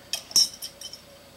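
Metal Caldera Cone stove fitted into a cook pot gives a few light, bright clinks and taps, faint and close, spread over about a second.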